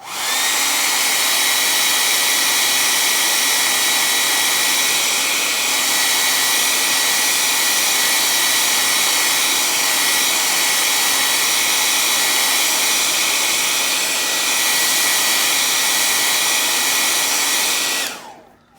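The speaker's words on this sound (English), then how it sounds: "we can use a hair dryer" A hair dryer blows on a watercolor figure painting in a studio, a loud, steady, close whirring roar that holds for nearly nineteen seconds before switching off abruptly.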